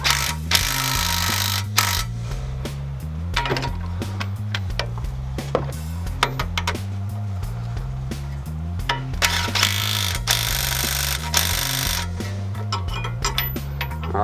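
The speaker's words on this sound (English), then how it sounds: "you can just get your impact drill or a 19mm socket" A 19mm socket on an impact drill tightens coilover bolt nuts on a Mitsubishi Evo X front suspension: a long, loud, close run of rapid ratcheting hammering that shifts pitch in stretches and pauses only briefly, with no talk.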